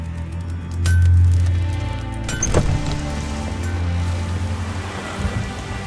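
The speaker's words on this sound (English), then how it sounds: "Rain's back." Steady rain falls in The Witcher 3: Wild Hunt during a rolling gale, a continuous wash with a low rumble like distant thunder and a brief clink partway through.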